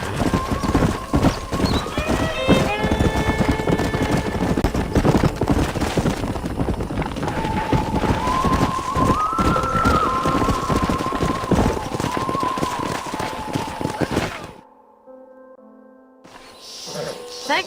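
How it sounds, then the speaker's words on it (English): Horse hooves clatter in a fast gallop with a loud whinny in Red Dead Redemption, set against steady game ambience and music, with voices talking, before the scene cuts to a quieter moment near the end. "why don't you keep that stallion as your own"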